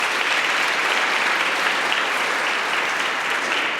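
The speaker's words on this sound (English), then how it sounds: "Round of applause, please." Steady audience applause at a European youth prize ceremony in Aachen, an even, continuous wash of many hands clapping at moderate distance, unbroken and without talk.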